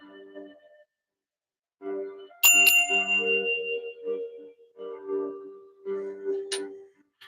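A small bell rings once, clear and bright, shimmering briefly amid soft background sounds and movement during a spiritual card reading for Pisces.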